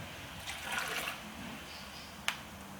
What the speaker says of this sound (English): I'll pour in my coffee.